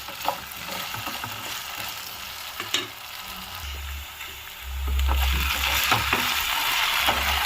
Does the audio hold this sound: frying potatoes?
yes